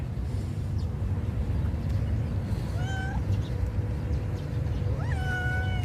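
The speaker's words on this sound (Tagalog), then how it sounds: "Ayan guys, ang mga pusa dito sa park." Two clear meows from stray cats in a park, one midway and a louder rising cry near the end, heard over a constant low background hum.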